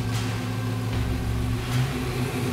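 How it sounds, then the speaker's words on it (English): Car engine fitted with an Edelbrock Pro-Flo 4+ EFI system idling steadily as its idle target speed is raised, a continuous close engine drone with a slight rise in pitch and no talk. "See how the engine RPM increases."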